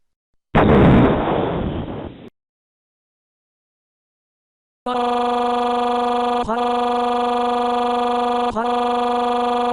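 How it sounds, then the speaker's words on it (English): A loud video-game explosion beneath a pyramid erupts as a roaring blast for under two seconds, then cuts off; after a silence, a sustained, buzzy, horn-like tone follows. "there's been an explosion from underneath the pyramid that killed Mike"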